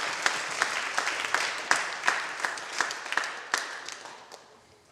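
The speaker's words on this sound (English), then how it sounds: "Let's give Cindy a round of applause" An audience at a school geography bee applauds for about five seconds, claps crisp and dense at first, then thinning and fading out toward the end.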